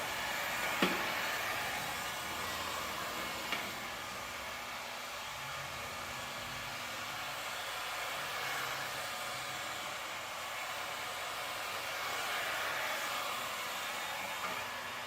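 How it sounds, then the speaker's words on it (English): Steady, close, loud blowing whir of a heat gun running continuously during opaque window film installation, with a couple of faint clicks near the start and no talking. "Turn this heat gun off."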